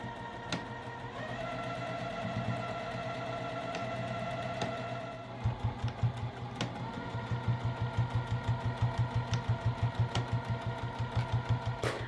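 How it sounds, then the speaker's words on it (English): A sewing machine stitches a fabric bag seam close by, a steady whirring hum that shifts into a fast, even rhythmic chatter of needle strokes partway through, with occasional sharp clicks and no talking. "we are going to sew directly on this line"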